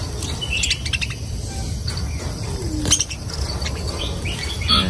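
A budgerigar chirps in quick, bright bursts, close and fairly faint, over a soft hum of background noise.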